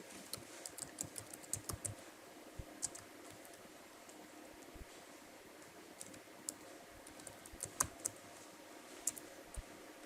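Someone types on a computer keyboard while setting up website hosting, producing a quiet, steady stream of close key clicks with irregular taps and occasional louder strokes.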